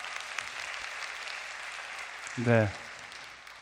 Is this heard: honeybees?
no